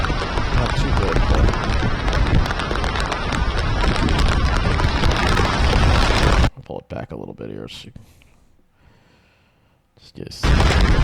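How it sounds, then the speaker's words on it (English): Small hail falls during a storm on Long Island as a dense, loud, continuous patter with strong wind for several seconds. It then cuts to quieter moments with faint noises before the heavy pelting returns. "Sounds like hail. Key size. Small hail."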